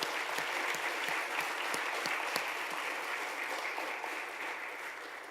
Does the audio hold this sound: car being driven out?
no